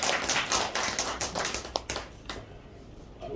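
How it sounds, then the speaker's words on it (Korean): A church congregation applauds at a founding service, dense clapping filling most of the clip before thinning out near the end. "이렇게 해주신 우리 이성난 전도사님 최선의 좀 박수로 환영합니다."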